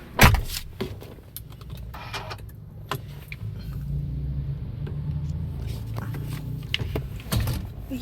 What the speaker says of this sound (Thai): เดี๋ยวเราขออนุญาตสตาร์ทรถ